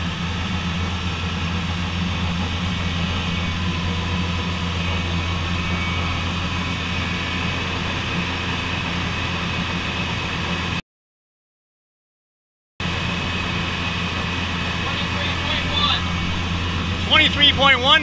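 Engine of a 1998 38-foot Delta Canaveral dive boat run at full throttle during a sea trial, a loud steady drone with deep low rumble and constant broadband roar, briefly cut out then resuming, with wind and water noise.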